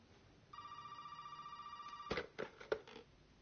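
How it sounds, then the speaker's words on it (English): In Resident Evil 7, a telephone rings with a sustained electronic trill that holds steadily for about a second and a half. A few sharp clicks and knocks follow as the receiver is handled, all fairly quiet. "So let's answer the phone."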